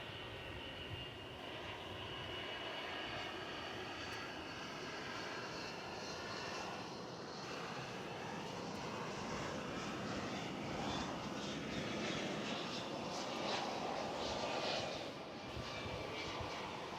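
A Boeing 757 at DFW Airport, a steady distant roar of jet engines holding at a faint, even level throughout, with no talking.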